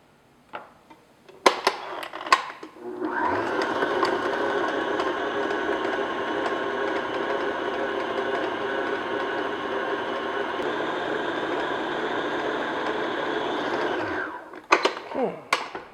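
An electric mixer beats chocolate chip cookie batter, a steady, close mechanical whir that runs for about eleven seconds, framed by brief clatters and knocks of the bowl before and after.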